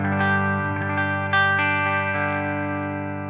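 Clean electric guitar tone from a Gibson 335 with Burstbucker pickups through a 1987 Volta amp, a light delay trailing behind: a few chords and single notes ring out close and clear, sustaining and slowly fading at the end.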